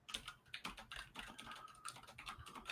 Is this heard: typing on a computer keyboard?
yes